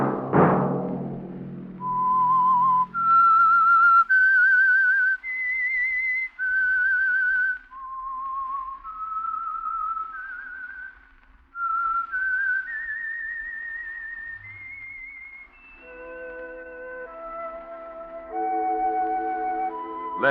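A lone melodic whistle plays the slow theme tune of The Whistler radio drama, clear and close, note after note with brief pauses, ending over soft orchestral music.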